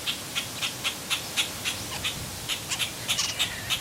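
A hand-fed baby bird begging for more food, giving a steady series of short, sharp high cheeps at a regular rhythm, close and fairly loud, with no voices over it.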